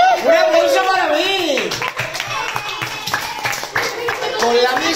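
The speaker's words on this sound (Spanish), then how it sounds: "¡Un aplauso para mí!" Students clapping in a classroom during a geometry lesson, brisk applause running beneath excited children's voices and talk.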